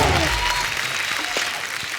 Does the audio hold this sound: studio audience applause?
yes